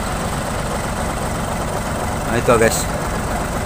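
A Hino truck's engine idles with a steady low rumble after stalling on an uphill climb, its motor leaking oil and smoking, while someone talks briefly over it.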